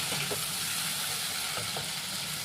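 A spiced masala mixture being sautéed in a pan gives a steady, fairly soft sizzle, with a few faint scrapes of stirring at intervals.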